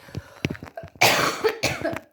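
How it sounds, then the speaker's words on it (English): Several harsh, loud coughs up close, starting with smaller throat sounds and breaking into a strong burst of coughing. "I have a really bad cough"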